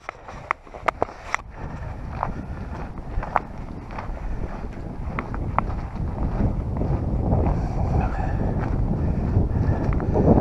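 A breeze gusts into the microphone on the Jordan Pond hiking trail, a steady low rumble that grows stronger toward the end, broken by a few sharp clicks.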